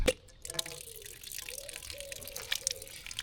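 Thin stream of water trickling and dripping from a public fountain in Sant Julià, a faint, close, steady splashing with a few brief sharper drips.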